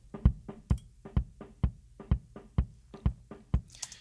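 Kick drum from an inside mic with the low mids and sub-bass cut by EQ, nine or so steady, tight hits played alone, thinner and clickier than a full kick.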